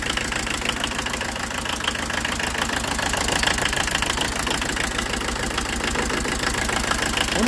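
A steady, close engine idles rough with an uneven knocking beat, the kind heard when one cylinder may be down, running continuously with no talk over it.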